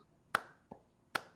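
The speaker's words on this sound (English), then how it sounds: "I'm gonna clap my hands and see if you can clap in sync with me." Three crisp hand claps, close and unevenly spaced, ring out alone as someone tries to clap in sync over a livestream.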